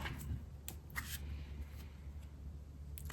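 A deck of reading cards is shuffled softly up close, with quiet riffling and a few crisp card snaps over a low hum.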